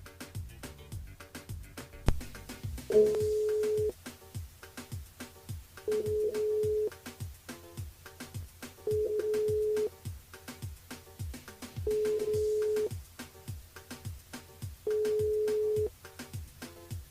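Outgoing phone call left unanswered, a steady tone repeating in five evenly spaced one-second rings over a soft background beat, no one picking up and no talk.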